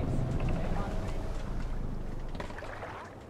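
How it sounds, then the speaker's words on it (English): Rowing a longship in the video game Assassin's Creed Valhalla: a steady wash of water and wind-like rumble, loud at first and easing slightly toward the end. "We need to row our way out."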